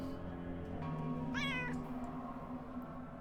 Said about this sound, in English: Like the cat is the only thing making noise around here.